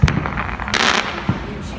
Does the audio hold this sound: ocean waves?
no